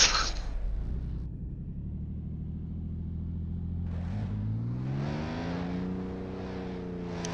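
A BMW M4 CS drifting on a race track, its engine droning steadily from close by, then the pitch climbs as the revs build. There is a harsh noisy burst at the start.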